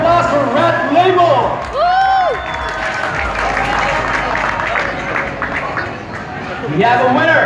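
Crowd at an American Bully dog show in Cebu, Philippines applauds and cheers for a dog named Red Label, with steady clapping and whoops mixed with chatter and a voice over the PA throughout.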